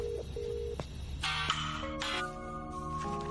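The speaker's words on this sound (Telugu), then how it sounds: "నేను ఫోన్ చేస్తాను" A telephone call being dialed: a short series of bright electronic keypad tones followed by layered ringing and dial tones, close and clear with no talking.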